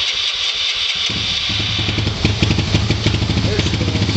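A Honda engine on full choke in the cold, loud and close, catching after a rough start into a steady, fast, throbbing run with a busy mechanical chatter and high whine over it.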